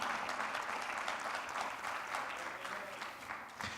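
Worshippers at a Spanish-language evangelical church service give a strong round of applause, a full, even rush of many clapping hands at moderate loudness that fades slightly toward the end, with no speech over it.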